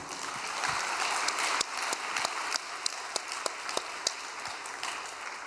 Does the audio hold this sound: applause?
yes